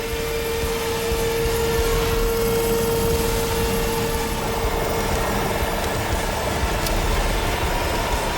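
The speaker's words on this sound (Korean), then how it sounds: "링스 헬기가 작전 지역으로 이동하는 사이" Lynx military helicopter of a Korean naval anti-piracy unit in flight, heard as a steady, loud broadband engine and rotor roar that holds throughout with a constant tonal whine, no voices.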